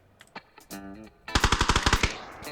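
Automatic gunfire in the video game PUBG, a couple of single shots followed by a rapid burst of about ten loud, evenly spaced rounds, close and sharp.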